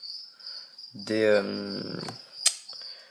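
Crickets chirp in breeding boxes holding a vermiculite and perlite substrate, a steady high trill running throughout while a person talks over the middle of it.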